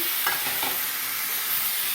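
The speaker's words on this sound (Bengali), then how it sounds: "এবার আমি ভাজা ডাঁটাগুলো এর মধ্যে দিয়ে দেবো।" Fried drumsticks are stirred into a mustard and poppy seed paste in a pan, with a dense steady sizzle and a few scraping stir sounds near the start. It is close and continuous, and no one talks.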